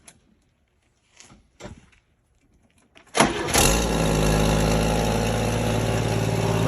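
A cold International Scout II engine cranks with a few short, sputtering attempts, then catches and settles into a loud, steady idle close by.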